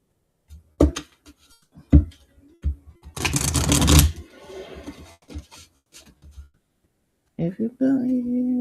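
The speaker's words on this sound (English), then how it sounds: "I always shuffle 3 times." A deck of cards is shuffled in quick riffling bursts, with a longer dense riffle in the middle, then someone speaks near the end.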